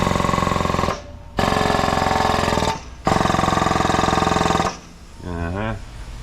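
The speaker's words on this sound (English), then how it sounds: "So these jacks here, these are air over hydraulic. They use air to run the little pump." An air-over-hydraulic jack's air-driven pump runs in loud, rapid hammering bursts, stopping twice briefly before a final burst, then a short hiss with a voice speaking near the end.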